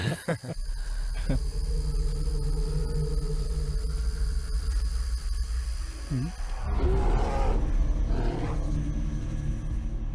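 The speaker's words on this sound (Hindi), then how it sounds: "वो भालू की आवाज थी।" A bear roars in a jungle setting, a deep, loud growling roar that swells after a long stretch of steady low background rumble.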